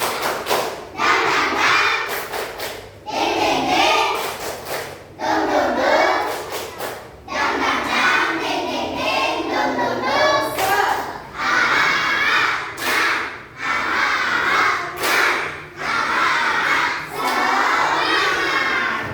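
A class of primary-school children in a Grade 3 lesson performs a rhythmic clapping chant, loud bursts of claps and shouted voices repeating in a steady pattern, with short pauses between phrases.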